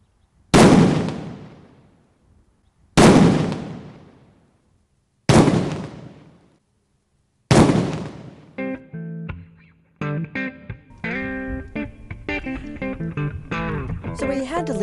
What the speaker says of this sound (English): showing the potential destructive power of illegal fireworks